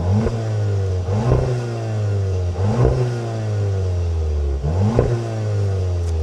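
A 2025 Volkswagen Jetta GLI engine revving repeatedly, four rising sweeps of engine pitch each climbing then dropping back with a clattering shift, loud and close with no talk.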